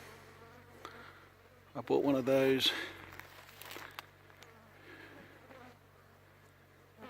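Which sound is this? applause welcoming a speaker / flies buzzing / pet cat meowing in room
flies buzzing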